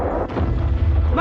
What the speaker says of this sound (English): Keep them coming! More bombs!